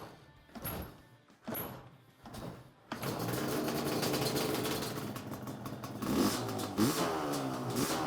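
A rebuilt Yamaha Banshee engine is kicked over a few times in short sputtering bursts, then catches and runs steadily with a loud, buzzing two-stroke drone and a couple of throttle blips near the end.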